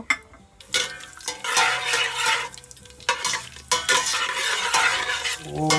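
Whole spices fry in hot mustard oil in a pan for tehari, with a crackling sizzle under repeated metal spoon scrapes and clinks against the pan, close and fairly loud, no voices.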